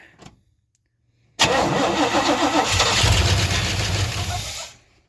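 Truck engine with a new distributor, after sitting for 20 years, cranks and starts abruptly, roaring up loudly, then runs rough for a few seconds before cutting off.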